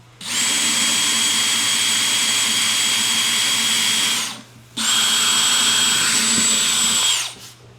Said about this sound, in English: I want to drill a hole through that.